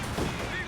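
Tank main gun firing a single round in a World War II strategy game match, a dense heavy blast filling the short moment, loud and close.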